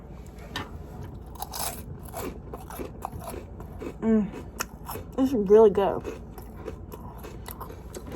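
Close, crisp crunching and chewing on tortilla chip nachos topped with beans, ranch and guacamole, a few loud bites followed by wet chewing, with someone talking between mouthfuls.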